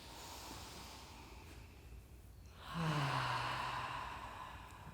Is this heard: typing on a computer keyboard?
no